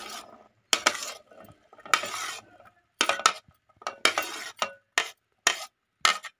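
A spoon stirs fruit chaat of unpeeled apple and pomegranate in a bowl, giving bursts of wet scraping and clinking in an uneven rhythm separated by short silences, close and clear.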